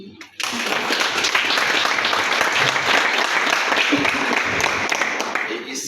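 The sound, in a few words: audience applauding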